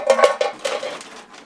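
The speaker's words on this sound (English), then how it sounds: "Some old metal cans." Old metal cans clink and clatter as they are handled in a historic wilderness cabin, several sharp close metallic knocks fading out over about a second and a half.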